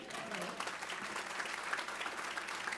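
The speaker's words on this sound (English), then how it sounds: "You can clap," At the Harford Awards ceremony, a fairly quiet audience claps steadily for mother-daughter owners of a retail coffee business, an even, continuous spread of hands for nearly three seconds.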